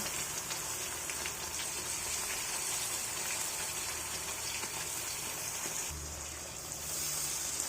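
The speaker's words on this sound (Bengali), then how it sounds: "সামান্য পরিমাণ একটু জল দিল মশলাটা কষানোর জন্য" Ground spice paste sizzles in hot oil over fried black cumin and onions as a little water is added, giving a steady, close, broadband frying hiss with a slight shift near the end; no talking.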